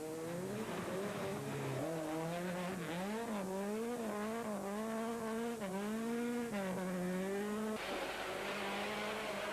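A black rally car races flat out through a single special stage of the 2002 Castle Hellfire rally. The engine is loud and close, revving up and down in rising and falling sweeps through the gears, with a sharp drop and change near the end.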